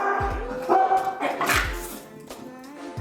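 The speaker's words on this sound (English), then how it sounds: "He's upset because he wants to get in on it. As you can see, Stormy plays well with other dogs" Several dogs play together, one barking sharply in short repeated bursts with yips and whimpers, loud and close, with faint voices in the background.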